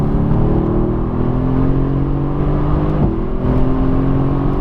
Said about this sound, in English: Good to go, accelerating out.